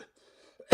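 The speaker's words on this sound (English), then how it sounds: "Why are you coughing?" A single sharp cough bursts out near the end after near silence, loud and close, preceded by a faint short throat sound.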